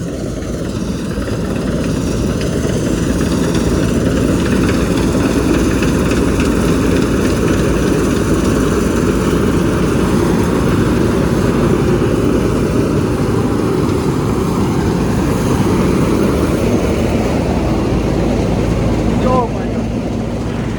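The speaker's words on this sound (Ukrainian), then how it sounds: "Зараз підемо кататися комбайні." Combine harvester engine running steadily during a ride through a soybean field, a loud continuous broadband roar and whine heard from close by throughout, without talk.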